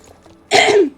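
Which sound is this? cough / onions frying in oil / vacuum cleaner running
cough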